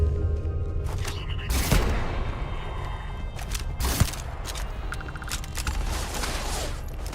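Gunfire in the space game Starfield: scattered sharp shots and bursts, a loud crack near the middle, heard at moderate level over a busy game soundscape with faint talk.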